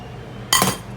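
Bread pudding scraped into an All-Clad baking dish makes a single close clatter of metal and utensil halfway through, brief and bright, followed by a short scraping tail against quiet kitchen background.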